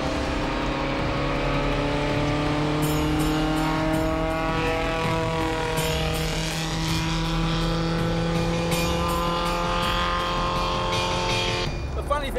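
A small sports car engine, from a Honda S600, Fiat Millecento or NSU Spider, drones loudly and continuously with rising and falling pitch as it revs, close by, while people talk over it.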